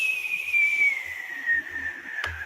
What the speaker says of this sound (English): you guys hear a whistling sound